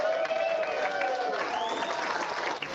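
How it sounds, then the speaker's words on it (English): Enthusiastic crowd cheering and clapping at an election night event in Connecticut, a steady dense wash of applause and voices running throughout at close range. "the crowd seems to very be enthusiastic, to say the least"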